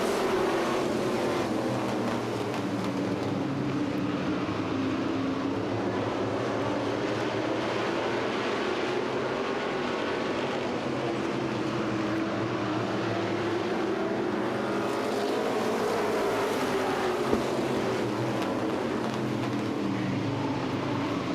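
A pack of late model stock cars races around the Waterford Speedbowl oval, a dense continuous engine roar with rising and falling pitch as the field circles the track, steady and loud throughout with no talk.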